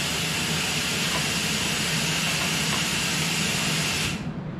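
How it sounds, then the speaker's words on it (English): A compressed air dryer in a temporary paint booth releases a loud, steady hiss of air that runs continuously before cutting off abruptly near the end. "You can hear the air dryer going off."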